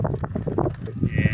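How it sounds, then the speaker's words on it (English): Sheep bleat along a gravel cycle route in open countryside, several wavering calls in quick succession, near and fairly loud, with wind noise behind them. "Turn left at the sheep."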